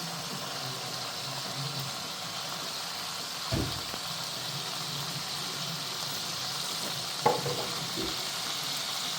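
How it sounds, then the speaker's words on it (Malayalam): Sliced onions and a spoonful of butter fry in leftover chicken oil for butter chicken, giving a low, even sizzle throughout, broken by two dull knocks of a utensil against the pan. "അതേ ഓയിലിലോട്ട് രണ്ട് സവാള കട്ട് ചെയ്തത് ആഡ് ചെയ്യാം പിന്നെ അതിൻ്റെ കൂടെ തന്നെ നമ്മൾ ഒരു സ്പൂൺ ഫുള്ളായിട്ട് ബട്ടറും ആഡ് ചെയ്യണം"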